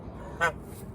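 A single short, loud honk from a domestic goose on a small farm, rising briefly over a quiet background.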